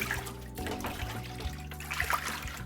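Water runs steadily over a black-and-white film print washing in a darkroom, a constant splashing trickle with a low hum underneath and no voices.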